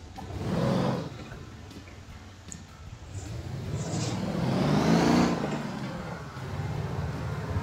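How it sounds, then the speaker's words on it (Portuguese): A pickup truck in the driving game Motor Town revs and accelerates at night, its engine swelling in broad waves that rise and fall several times, moderately loud and steady with no talking. "E acelerar nosso caminhonetaço"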